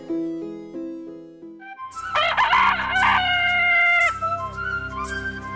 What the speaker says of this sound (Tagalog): Tumilawak na ang tandang at hudyat na ito nang simula ng aking araw.